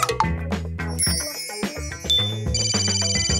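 A mobile phone ringtone plays a bright, tinkling chime melody, loud and close and alone, looping without a break.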